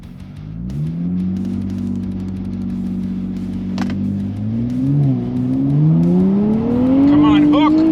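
A 2023 Nissan Z and a 2022 Kia Stinger GT launch side by side in a drag race, engines droning loudly and then revving sharply upward as the cars accelerate away, with a brief tire chirp and voices in the background.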